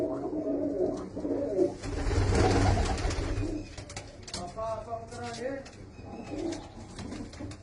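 Pigeons and their young chicks coo softly and repeatedly nearby at a home loft, with some chirps and background voices murmuring underneath.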